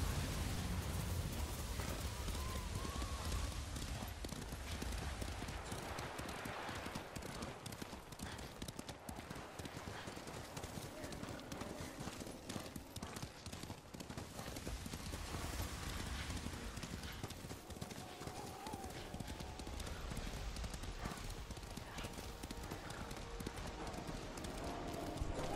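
Galloping horse hooves in Ghost of Tsushima, a fast continuous clip-clop under a dense wash of rain and ambient noise, sustained for the whole stretch with faint background voices.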